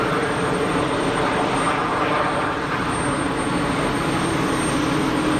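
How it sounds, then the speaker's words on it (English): Swiss airliner taking off on an intersection departure at Geneva Airport, a loud, steady broadband jet roar filling the whole stretch with no pause. "Swiss 220 going for an intersection departure."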